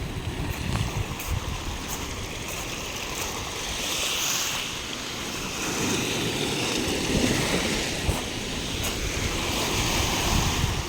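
Steady sea waves wash and hiss continuously, surf rolling in at moderate loudness with a faint breeze, and no voices, at a beach in General Nakar.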